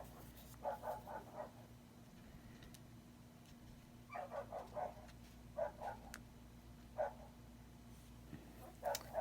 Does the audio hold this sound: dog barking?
yes